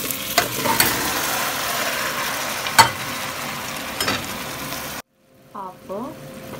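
Potatoes going into a pot for a Romanian potato stew, with steady sizzling and stirring clatter and a few sharp knocks, then a sudden drop to near quiet with brief faint clinks.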